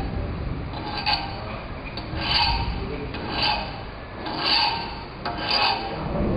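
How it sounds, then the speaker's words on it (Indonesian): A hand file rasping across a workpiece at a bench in repeated slow forward strokes, about one every second or so, loud and close with a gritty scraping texture and brief pauses between strokes. "cara mengikir yang baik dan benar adalah tangan kanan memegang gagang kikir"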